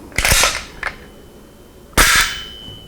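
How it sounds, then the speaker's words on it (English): Machined steel action of an HK Mark 23 pistol fitted with a flash hider being worked by hand: two sharp metallic clacks about two seconds apart, each with a short ringing tail and a lighter click between them, loud and close. "I love the sound of machine steel."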